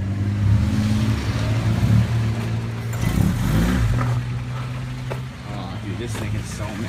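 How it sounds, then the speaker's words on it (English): A car engine bangs against its rev limiter on a two-step launch control, a loud, rapidly pulsing stutter that holds steady, then dips briefly before resuming, with people talking over it. "That's rev limiter right there. That is some straight haggard two-step."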